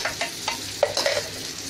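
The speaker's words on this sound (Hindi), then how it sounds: "मस्का डाल के पाव को भूनने का" Pav bread buns frying in butter on a pan for pav bhaji, a steady crackling sizzle with soft scraping stirs and a few sharper pops, close and continuous with no talking.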